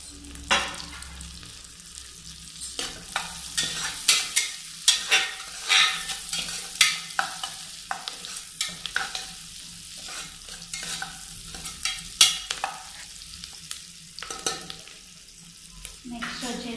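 Green chillies and onions frying in a pan, a steady sizzle broken by frequent rhythmic scrapes and knocks of a stirring spoon, near and moderately loud throughout.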